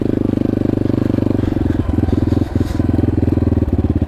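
Yamaha XT250 enduro motorcycle descending a steep slope in Moab, Utah, its engine a loud, steady close-up drone with rapid firing pulses, slight dips and clattering as it rolls down.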